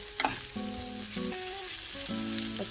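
Chicken hitting a hot pan for samosa filling, a brief loud sizzle with stirring scrapes, heard close and steady with no talk.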